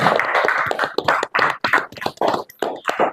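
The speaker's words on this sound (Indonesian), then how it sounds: "tepuk tangan dulu" A small group in a classroom session claps after a presentation, uneven bursts of clapping with short gaps, close and fairly loud.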